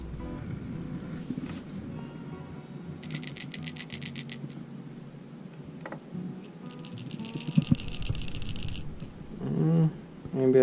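A Strike King Pro Jig fishing lure, a 1/2 ounce green pumpkin flake jig, is shaken in bursts, its internal rattle giving quick metallic clicking runs separated by pauses, close up and fairly faint.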